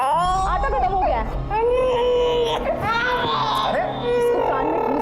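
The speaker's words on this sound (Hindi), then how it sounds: "गोविंद, बच्ची रो रही है।" A baby girl cries loudly and continuously in a household, with sobbing wails that rise and break, up close and filling the clip.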